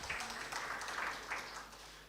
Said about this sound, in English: Another clap for Dr. Zephania Tafadhali.